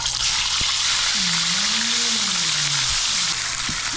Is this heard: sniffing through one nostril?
no